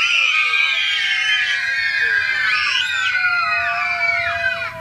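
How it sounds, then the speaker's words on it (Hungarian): A crowd, largely children, lets out a long, loud shared scream that holds steady for about five seconds at a celebration before tailing off at the end. "Ahhoz viszont kéne egy nagy sikítás."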